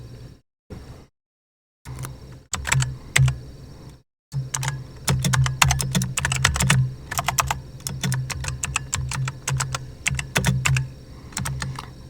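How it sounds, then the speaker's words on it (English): Fingers tap a computer keyboard in quick, uneven bursts, clicks close and crisp, broken by a few short pauses and no voices. "Let me finish typing in my fucking title and all that jazz."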